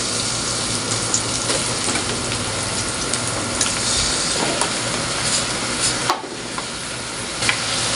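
Chicken dropped into a hot pan with onion and garlic for a chicken curry gives a steady, dense sizzle that hisses continuously, with small stirring clatters and a brief dip near the end.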